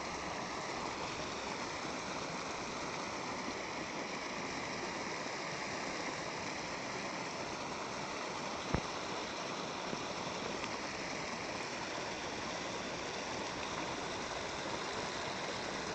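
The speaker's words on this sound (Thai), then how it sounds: "อันนี้ก็น้ำไหลคือเก่าเด้อพี่น้อง" Water flows steadily in a stream, a constant rushing hiss without pause, with a single faint click partway through.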